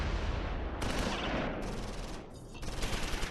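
Battlefield gunfire in the World War II tactics game Close Combat IV, set around Simmerath and Udenbreth in December 1944: overlapping rifle and machine-gun bursts roll on continuously with a brief lull near the end, loud and with no talk.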